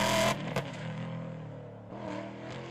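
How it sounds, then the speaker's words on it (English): An Aston Martin Vantage GTE race car lapping a racing track, its engine note sustained and droning with a sharp shift or change in pitch midway, heard clearly without speech. "Stefan took us for a few flying laps around the track after the Vantage GTE was let loose on the racing track"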